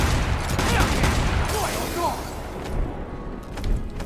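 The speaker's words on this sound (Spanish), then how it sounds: "Supongo que ese disparo es más poderoso que los otros" Loud gunfire bursts in quick succession, sharp and booming, with a few crashing impacts in a noisy Devil May Cry 5 boss fight between Dante and Urizen.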